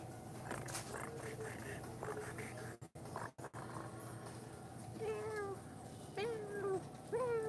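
A house cat meows several times, rising and falling cries in the latter half, moderately close over a low background hum with faint distant voices.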